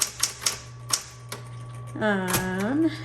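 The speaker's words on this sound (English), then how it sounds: "So let's go ahead and we're gonna check all the keys." Keys on a 1960s Smith Corona Electra 120 electric typewriter strike in a quick, uneven series of sharp clacks close to the mic, over a steady motor hum, followed by a person speaking.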